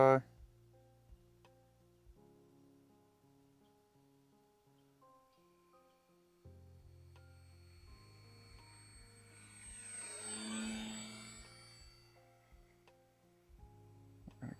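An FPV drone flies past with a thin, high propeller whine that builds to a peak in the middle of the passage and then fades, heard faintly over tonal background music.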